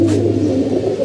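Pigeons at a home loft, flying up and settling near their nest, give close, steady low cooing that runs unbroken through the whole moment.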